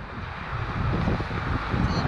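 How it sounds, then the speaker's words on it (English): On Taiwan's sparsely populated east coast during the windy season, gusty wind blows during a bicycle ride, a low, rumbling roar buffeting the microphone and gradually growing stronger. "It's a little bit windy."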